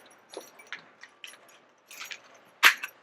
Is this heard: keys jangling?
yes